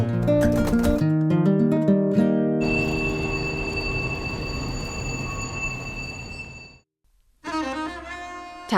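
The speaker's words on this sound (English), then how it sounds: "we will go and take this cross-desert train today" A cross-desert passenger train on the Hotan–Ruoqiang railway in the Taklamakan Desert, a loud continuous rumble with high squealing wheel tones, a brief drop to near silence, then the rolling noise returns.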